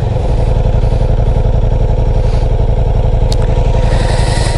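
Ducati Diavel V4 motorcycle exhaust, a loud, close, steady idle with an even throbbing pulse and a light mechanical clatter, no talking.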